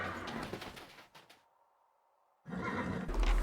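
A horse in the fantasy video game Pillars of Eternity gives a rough, breathy whinny amid dense game ambience, then falls to near silence before the background noise swells back in.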